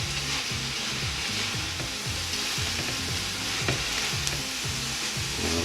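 Leeks sweating in a pan for leek and potato soup, a continuous close sizzle with occasional stirring scrapes and a rhythmic low pulsing rumble underneath.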